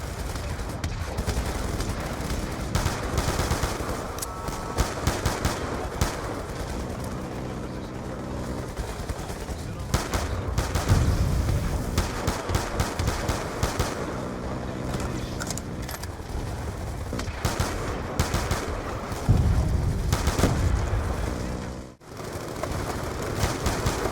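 Weapon fire in the shooter Black Ops 2, a steady run of loud shots and bursts over roughly twenty seconds with only brief pauses, no voices.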